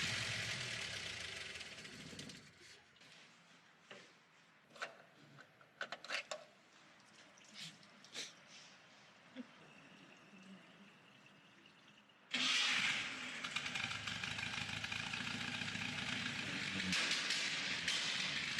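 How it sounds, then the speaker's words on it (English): A rough old armored cash truck engine, abandoned for years, rumbles at idle, loud and steady in the second half, with irregular sharp exhaust pops and knocks breaking through earlier. "It doesn't just idle. It makes sharp pops in the exhaust."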